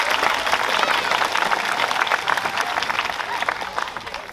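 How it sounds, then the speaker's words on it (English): A school Founders Day ceremony crowd applauds two faculty members, a dense, steady burst of clapping with crowd murmur mixed in. "Let's give Mr. Williams and Ms. Cross a big round of applause for some entrance music"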